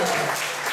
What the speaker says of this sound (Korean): 박수! 와우!